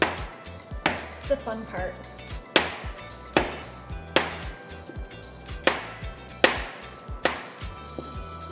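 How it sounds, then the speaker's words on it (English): A chopper tool cutting mint candy into half-inch pieces, about ten sharp knocking chops at a steady pace against a hard surface, close up, with a voice speaking briefly in between. "I'm just gonna cut these into about 1/2 inch pieces. So I'm just gonna kind of go along, chop, chop, chop."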